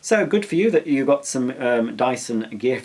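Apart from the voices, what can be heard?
No distinct noise like a dog, phone or traffic.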